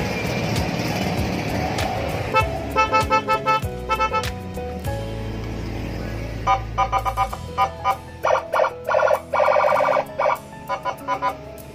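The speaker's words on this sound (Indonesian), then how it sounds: "dan klakson Denso. Kita coba tes." A Denso horn on a Yamaha Nmax motor scooter honks repeatedly in short bursts and longer blasts, loud and close, over an idling engine, with no talk.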